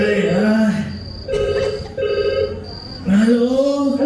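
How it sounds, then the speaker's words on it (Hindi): Telephone ringing late at night in a Hindi drama, with bursts of electronic ringing separated by short gaps, loud and close, alone without talk. "इतनी रात को कौन फोन कर रहा है यार?"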